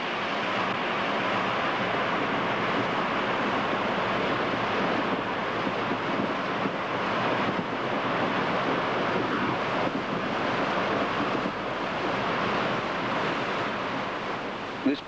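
White water rapids known as the Cruncher in Australia, where a large volume of water drops 16 metres over a few hundred yards, roar as a steady, dense, unbroken rush throughout.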